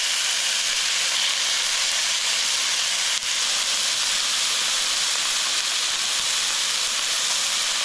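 Beef pieces sear in a hot pan for stew, giving a loud, steady, close hiss of sizzling fat that holds evenly throughout with no talking.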